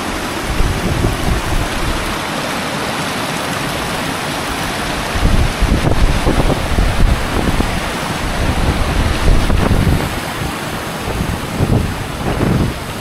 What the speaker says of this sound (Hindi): ये है फाइनली बियर वाटरफॉल